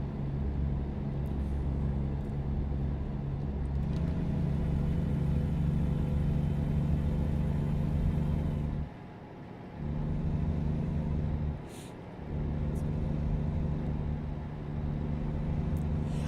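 A truck engine runs steadily with a deep, low rumble, briefly dipping twice before resuming its constant drone.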